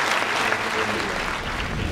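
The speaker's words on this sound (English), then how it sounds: "I would request all of you to welcome him once again with a round of applause." Audience applause at a formal lecture event in India, welcoming the Minister of Railways; steady, dense clapping fills the whole span at moderate loudness with no talk over it.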